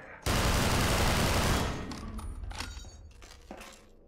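A loud, sustained burst of automatic gunfire in Entropy: Zero, a Half-Life 2 mod, opens abruptly and then gives way to scattered, decaying impacts and debris clatter.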